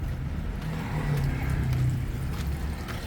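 Steady road traffic rumbles past on the Panglao highway, a continuous low engine drone with a car passing close by, with no talk over it.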